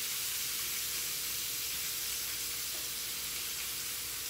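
Butter sizzles steadily in a hot pan while turkey wings cook, a loud, close, continuous hiss that stays even throughout with no voices.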